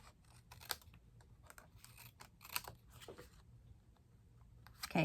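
Scissors snipping away leftover paper card pieces for a Stampin' Up! nested gatefold card, a few short crisp cuts spaced apart, close and quiet.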